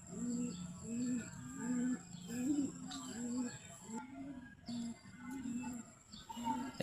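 Pigeons cooing at a loft: a steady run of low, rounded coos repeating roughly every half second, close by and fairly loud, with faint higher chirps and background noise.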